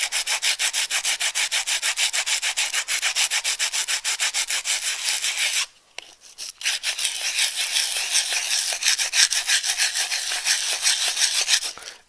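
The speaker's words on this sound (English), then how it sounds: "I would just sand that a little bit more" Sandpaper rubbed by hand over a handmade wooden bowl in fast, even back-and-forth strokes, close and scratchy, with a brief pause midway before the rhythmic sanding resumes, no talk.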